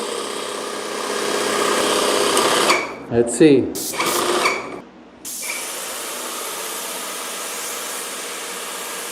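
An airless paint sprayer hums steadily, breaks into a few sputtering bursts and a brief pause, then resumes its steady whirring drone, with a short spoken remark midway.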